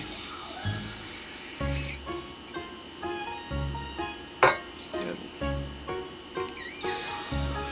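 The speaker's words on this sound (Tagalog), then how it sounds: "Kaya lagyan muna natin ng tubig." Water splashing and running steadily into a cooking pot, close and fairly loud, with a few clinks and bumps of cookware along the way.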